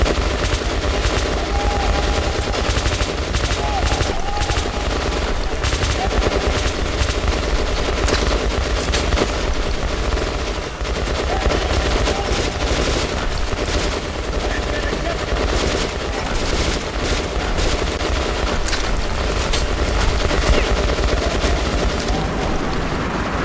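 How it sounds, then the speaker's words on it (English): Sustained bursts of fully automatic weapon fire in the shooter game Metro Last Light, rapid loud rattling volleys continuing almost without pause, with faint scattered shouts beneath. "there's a fully automatic weapon there"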